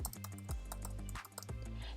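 Rapid, irregular clicks of a computer keyboard as a shop name is typed, close and distinct over a low steady hum.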